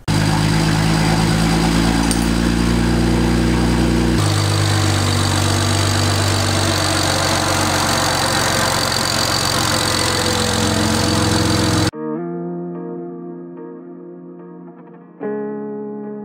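A BMW N54 car engine with a newly fitted front-mounted custom oil cooler runs loud and close, a dense steady roar that shifts after a few seconds, then gives way abruptly to quieter tonal music.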